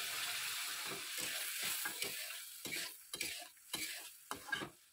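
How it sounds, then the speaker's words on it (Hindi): Onion paste is stirred into a chicken karahi, fairly quiet frying hiss broken by repeated scraping strokes of a spoon against the pan. "प्याज का पेस्ट ऐड करें और मिक्स कर लें।"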